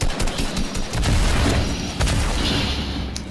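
Rapid gunfire and booming blasts in a shooting video game, dense and continuous at high volume, with overlapping bursts throughout.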